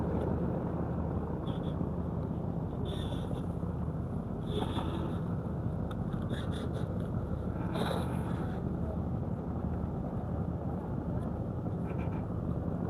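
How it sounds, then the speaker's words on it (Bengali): A river launch boat passes at a river mouth, its broad engine rumble and water wash holding steady and fairly distant, with faint scattered chirps above. "খুব সুন্দর, এটা জাহাজ লঞ্চ"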